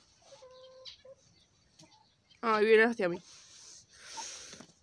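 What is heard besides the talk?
hens clucking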